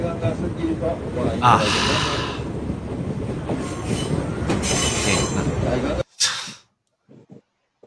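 Crowded train rolling through Arashiyama, Japan, with a loud steady rumble and high metallic wheel squeals over passenger chatter, cutting off abruptly into near silence with a few faint knocks.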